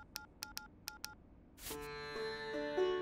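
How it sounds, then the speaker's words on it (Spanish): A series of quick electronic beeps, then a burst of noise and a shrill, discordant synthesized phone message alert tone in a cartoon that swells and persists, harsh and unpleasant. "Poner un ruido horrible como alerta de los mensajes."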